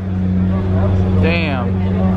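A Lamborghini Murcielago SV supercar at a car meet lets out a brief rising engine rev over a steady low idle, loud and close, with crowd chatter around it.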